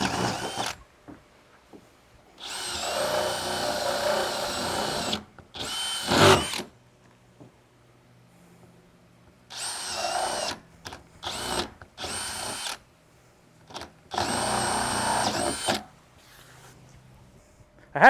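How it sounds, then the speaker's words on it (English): Cordless drill fitted with a spade bit boring through plastic while building a floating bait pen, several loud whirring bursts of a few seconds each separated by short pauses, no talking. "I kind of try to let the spade bit ease in there a little bit and take out the majority of the plastic"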